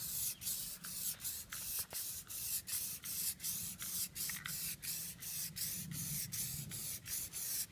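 A medium, slightly heavy coat of dip sprays onto a Mustang GT as a continuous close hiss, broken by quick regular pulses. No voices are heard.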